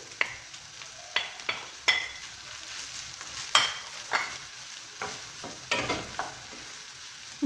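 Rice with vegetables and a fried egg is stirred in a sizzling pan, with a spoon scraping in repeated short strokes over a soft frying hiss.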